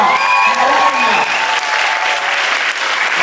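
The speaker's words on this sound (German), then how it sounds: "Lass uns einen Applaus" Loud, sustained applause rises from an audience at a film world premiere event as a guest is called up, with a crowd cheering and a high whistle or tone threading through the clapping.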